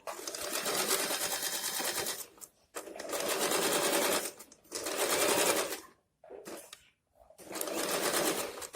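A sewing machine stitches pant fabric in four long runs separated by short pauses, its steady rapid whirr starting and stopping close by, with no talking.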